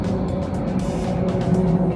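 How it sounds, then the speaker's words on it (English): A small car with a loud, garbage-can style aftermarket exhaust drones steadily in nearby traffic for two seconds, its low rumble constant and fairly loud with no talk over it. "Somebody's got a little car with a garbage can exhaust up there"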